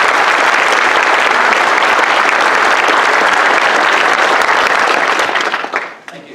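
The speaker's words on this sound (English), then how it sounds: "a warm round of applause for Chet Haase" Loud, enthusiastic audience applause for a keynote speaker at a developer conference, a thick wash of clapping that holds steady for several seconds, then quickly fades out.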